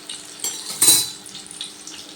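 Fried mung dal and sweet potato fritters lifted out of a pan, brief metallic scrapes and clinks of a utensil against the pan, one louder clatter near the middle, over a faint sizzle.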